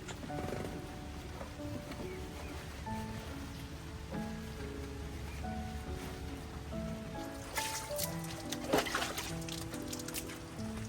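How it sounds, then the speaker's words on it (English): Steady light rain patters on surfaces as it slows to a drizzle, soft and continuous, with occasional brief louder clatters and faint background hum; in Vietnam. "the rain finally slowing down to a drizzle"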